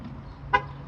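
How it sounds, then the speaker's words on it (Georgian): A BYD car gives a single short chirp as it locks, a brief tone over quiet background hum, moderately close. "ჩავკეტავთ მანქანას."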